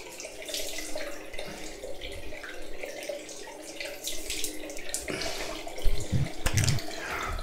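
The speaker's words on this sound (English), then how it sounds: "I'm going to take this off now with cold water." Cold tap water runs steadily into a bathroom sink while the face is rinsed after a wet shave, a continuous close splashing flow with a few louder splashes near the end.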